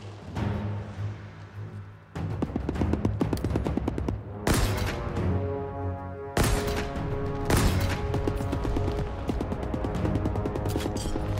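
Sustained gunfire in the video game Halo Infinite, dense rapid bursts of shots with heavy booms and crashes, loud and continuous throughout.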